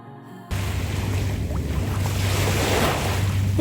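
Waves washing onto a sandy beach in Hong Kong, heard as a steady surf roar with wind that starts abruptly and carries on at an even, fairly loud level, with no voices.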